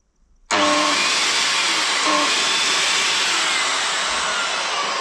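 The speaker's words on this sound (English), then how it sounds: "It makes the same angry noise as the Evolution saw" A power saw switched on at a workshop while building a box grader from scraps, starting abruptly after near silence and then running as a loud, harsh, steady whine close to the microphone, with no talk.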